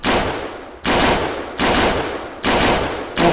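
Three long automatic bursts from an AUG rifle in Arma 3, each a loud, close, continuous rattle of rapid shots separated by brief pauses, with a short fourth burst starting at the end.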